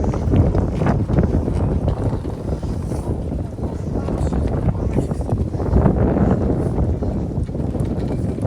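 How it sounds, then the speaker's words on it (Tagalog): Strong wind buffets the microphone in a chilly outdoor park, a constant loud roar with gusts rising and falling throughout. "very windy"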